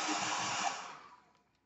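A hair dryer blows to dry paint between coats on a hand-painted diamond tag craft, a steady close whooshing roar that holds briefly and then winds down and fades out.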